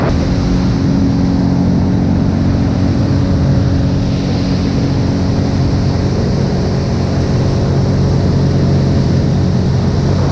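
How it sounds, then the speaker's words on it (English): Sea-Doo jet ski cruising at a steady 40 km/h on Lake Kaniere in New Zealand, a loud, continuous engine drone mixed with rushing water and wind, unbroken throughout. "I've got it on cruise control so it won't go any faster than 40 kilometres an hour"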